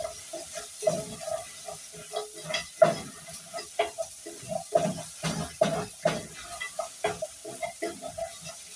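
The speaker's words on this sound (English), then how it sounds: "Let's stir." Meat being stirred in a cooking pot with salt added, repeated scraping strokes at an irregular rhythm over a soft sizzle, close and moderately loud.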